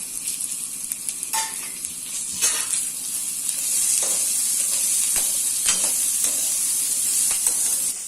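Chopped onions and curry leaves sauté in a hot pan with a steady close sizzle, broken by a few scraping stirs of a spoon.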